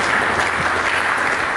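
Church congregation applauding during a sermon, a dense, loud, continuous wash of clapping from many hands filling the hall.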